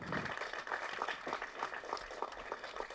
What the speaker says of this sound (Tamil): இதனால் பலத்த கரகோஷம் கொடுங்க அவருக்கு